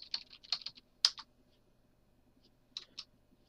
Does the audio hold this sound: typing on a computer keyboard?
yes